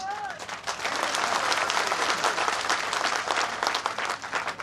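Loud, dense crowd applause at a BJP political rally in Alwar, a sustained wash of clapping lasting several seconds, with a voice briefly at the start.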